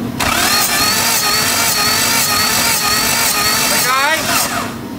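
An Isuzu engine with a knocking fault cranks over on the starter during a compression test, a loud, continuous whirring churn close by that winds down near the end.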